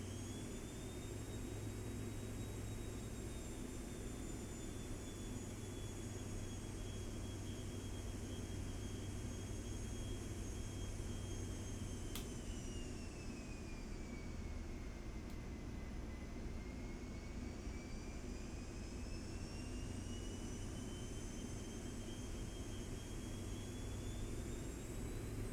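Jet airliner engines spooling at full takeoff thrust in the X-Plane 12 flight simulator on departure from Key West, a loud constant roar with a high whine that slowly drifts in pitch, alone without talk.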